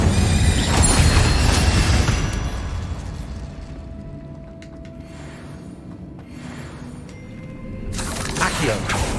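The Incendio fire spell is cast in Hogwarts Legacy. A loud, booming burst of flame opens the sequence, and another roaring blast swells near the end, with quieter game ambience and a faint tone between them.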